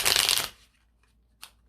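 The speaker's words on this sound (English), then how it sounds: "One more shuffle, guys," A deck of tarot cards is riffle-shuffled in one quick, crisp flutter, followed by silence and a single soft tap as the cards settle.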